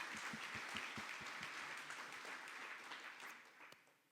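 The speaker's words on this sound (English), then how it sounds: "I think that deserves a round of applause" A conference audience at a startup super session applauds, dense clapping that starts fairly loud with a few distinct claps and slowly fades over several seconds, heard from a distance.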